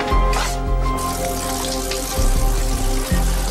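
Hot water gushes steadily from a tap, a continuous broadband rush with no pauses throughout.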